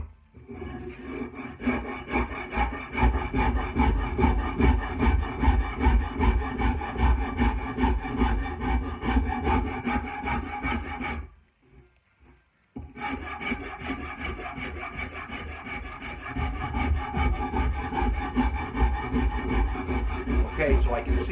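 A rasp is pushed in long, steady, grinding strokes along a wooden axe handle to flatten it, a close, loud, rhythmic rubbing that pauses briefly midway, then resumes; no speech.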